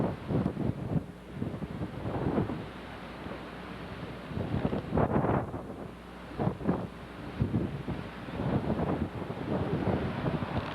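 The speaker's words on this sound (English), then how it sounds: "It is super windy up here." Strong wind roars and buffets the microphone in uneven gusts on high ground in New Zealand, loud and close, with no voices.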